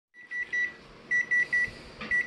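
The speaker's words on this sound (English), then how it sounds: "Timer going off." A kitchen timer goes off during tomato sauce canning, sounding a series of sharp electronic beeps in uneven pairs and singles over a steady background hum, loud and close.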